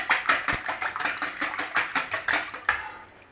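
Heavy whipping cream being stirred in a bowl for a chorizo and pepper crustless quiche, a quick run of about a dozen sharp, rhythmic utensil taps and scrapes against the bowl, close and clear with no talking.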